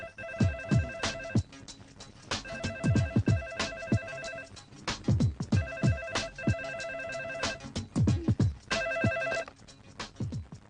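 A telephone ringtone plays in repeated bursts, a bright electronic tone pattern over a rhythmic plucked backing, fairly close and clear.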